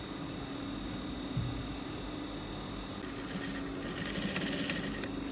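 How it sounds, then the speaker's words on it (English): A sewing machine stitches the seams of a pair of cargo shorts, its steady mechanical whir running continuously and at a moderate level, getting slightly busier and brighter toward the end, with no talking over it. "Be careful as you sew so as to give a very neat finishing."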